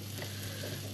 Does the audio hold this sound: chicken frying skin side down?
yes